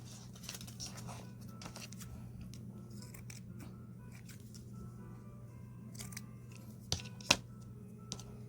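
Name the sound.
cutting craft pieces with scissors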